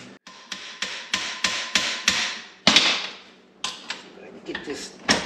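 Steel hammer striking a car steering U-joint to knock it apart, a run of a dozen or so sharp, ringing metallic blows in an uneven rhythm, close and loud, each with a short clanging decay.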